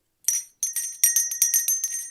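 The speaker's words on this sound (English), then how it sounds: "I gotta get the bell out" A hand bell rung repeatedly on a podcast, a run of about eight bright metallic rings in quick, slightly uneven succession with a sustained clear tone, close and loud with no talk over it.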